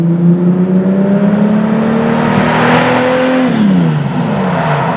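A 1990s Lamborghini Diablo engine runs loud and close, a deep steady drone whose pitch climbs slowly, then drops off as the revs fall.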